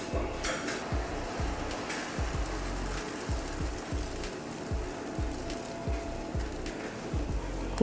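Dosa batter sizzling on a hot griddle: a steady close frying hiss throughout, with repeated soft knocks and scrapes of a utensil on the pan.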